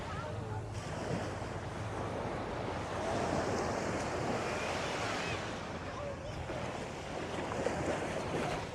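Ocean waves wash onto the beach at Dingalan, Aurora, a continuous rushing surf mixed with wind buffeting the microphone, moderately loud and unbroken.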